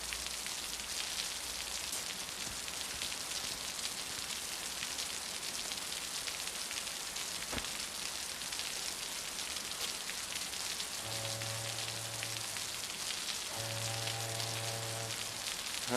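Steady rain falls continuously with a dense hiss, loud and close, while tones of a soundtrack rise briefly near the end.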